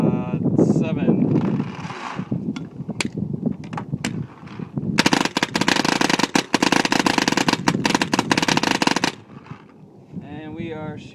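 Rapid paintball gun fire from an Alien Invasion marker aimed at a board, with a dense burst of shots lasting several seconds, preceded and followed by scattered single pops and some talk.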